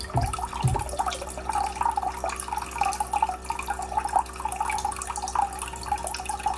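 Ninja Thirsti drink machine dispensing chilled water from its tank into a cup, a continuous close trickling pour with bubbling splashes over a steady low machine hum.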